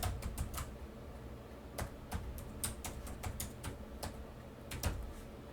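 Computer keyboard keys tapped in irregular quick clusters while a new project name is entered, close and fairly quiet over a low background hum, with no talking.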